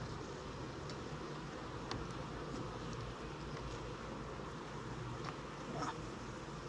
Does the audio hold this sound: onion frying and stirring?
no